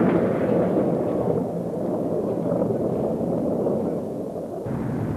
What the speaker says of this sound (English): A big explosion sent a huge, mushroom-shaped cloud that rose to 20 kilometers above the active vent.